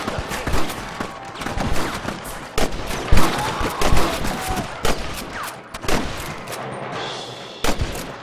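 Frontier shootout in Red Dead Redemption against rustler guards: sharp, irregular gunshots crack out near and far, some in quick clusters, with echoing tails over a low ambient bed.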